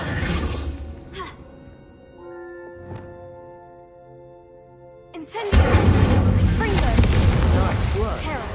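A Confringo spell cast in Hogwarts Legacy blasting candelabras, a sudden loud burst and blast after a quieter passage with tonal music, followed by a dense crackling, rumbling spray of debris; a voice is heard early on.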